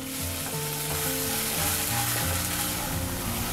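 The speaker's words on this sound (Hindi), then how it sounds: "अब हम इसमें अदरक लहसुन का पेस्ट डालेंगे और इसे भी थोड़ा पका लेंगे।" Ginger garlic paste sizzles and fries with cooked onions in a pan, a steady, dense frying hiss that stays close and continuous with no talking.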